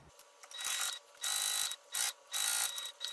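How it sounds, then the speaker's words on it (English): A sewing machine top-stitches two fabric panels placed wrong sides together for a notebook organizer, running close by in four or five separate mechanical bursts with short quiet pauses between them. "let's top stitch from one edge all the way to the other"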